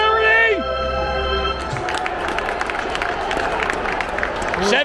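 After a brief sustained tone, a ballpark crowd breaks into scattered, continuous clapping and cheering following a Baltimore Orioles home run, filling the space at a steady moderate level.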